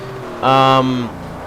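A Buick Regal GNX's 6-cylinder engine in Forza Motorsport 4 revs up sharply, holds a strained high note for under a second, then drops back to idle.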